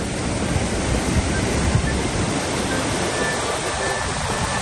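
River flowing beside a breeze outdoors in Andorra, a continuous loud rushing wash of water and wind noise with no pauses.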